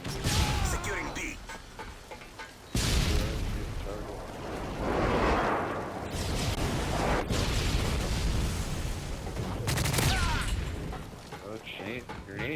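Grenade explosions in Call of Duty Black Ops 2 multiplayer: a sudden heavy blast followed by sustained rumbling booms and crackling gunfire, with talk and game voice lines over the top.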